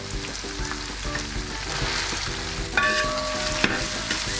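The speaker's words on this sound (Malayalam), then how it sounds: "ഇഞ്ചി വെളുത്തുള്ളി പച്ചമുളക് കറിവേപ്പില എല്ലാം ഒന്ന് മിക്സായി വരുന്നു." Ginger, garlic, green chilli and curry leaves sizzle steadily in oil for a Kerala-style chicken-veg kurma, with a spoon scraping and stirring the pan in a regular rhythm and a couple of sharper metallic knocks near the end.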